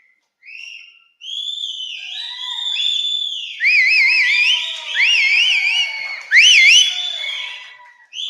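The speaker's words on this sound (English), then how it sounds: "How many of you know to whistle? Come on, whistle. And whistle loudly." Youth retreat audience whistling loudly together, a crowd of overlapping tonal whistles with sliding and warbling trills that swell and fade in several bursts, close and fairly loud, with no talking.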